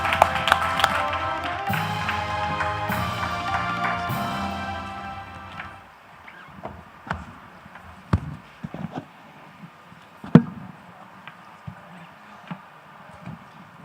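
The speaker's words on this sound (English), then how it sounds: "A round of applause," Audience applause at the NDTV Ignite Future India Summit 2026, a dense, loud burst of clapping that fades after about five seconds into scattered taps and a few sharp knocks.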